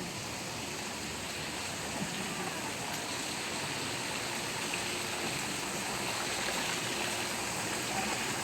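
Rose Falls, a waterfall at a resort in Antipolo, pours with a constant soft hiss and rush of water, steady and fairly quiet, with no voices.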